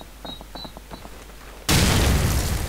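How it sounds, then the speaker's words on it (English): A bomb blast in Call of Duty 4 arrives as a sudden loud, sustained roaring explosion after a stretch of quieter game sounds and faint clicks, with no talk. "I dropped the bomb."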